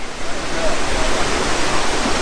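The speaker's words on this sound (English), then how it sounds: "So this is Thunder Creek Falls, 28 metres high." Thunder Creek Falls, a 28-metre waterfall in New Zealand, roars as a loud, steady broadband rush of falling water that fills the whole short stretch without a break.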